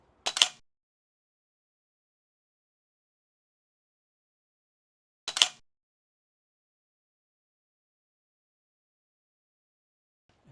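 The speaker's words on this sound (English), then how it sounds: "I love the sound of the mirror and the mechanical shutter" A DSLR camera from 2011 fires its mirror and mechanical shutter. Two crisp, close mechanical clicks come about five seconds apart, with a third starting at the very end, and near silence between them.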